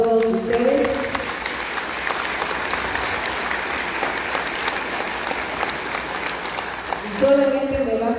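A large crowd at an outdoor community assembly for housing rehabilitation aid applauds steadily for about eight seconds, a dense, even wash of clapping with a voice speaking over it at the start and end.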